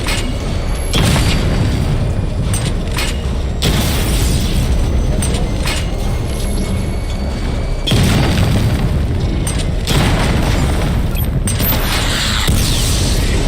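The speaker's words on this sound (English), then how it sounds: "Missile barrage level 1 ready." Missile barrage explosions in the video game Batman Arkham Knight boom again and again, loud and close, in dense rumbling bursts that run with no break through the whole stretch.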